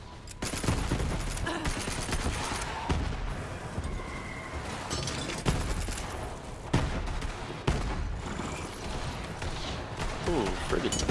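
Gunfire rattles through a Borderlands 3 fight, sustained volleys of shots mixed with sharper individual cracks and thuds, loud and close, with brief breaks and a voice talking over parts of it.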